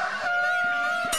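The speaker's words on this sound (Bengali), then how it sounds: "এই বন মুরগি!" Wild jungle fowl calling in a forest: one loud, sustained, nasal honking call of about a second, clear and alone with no talk over it.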